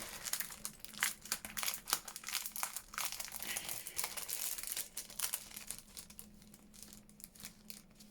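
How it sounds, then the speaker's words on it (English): A crinkly plastic packet of die cuts is opened and handled up close, giving continuous crumpling and crackling with sharp rustles that ease off toward the end. "Let's just get into this packet."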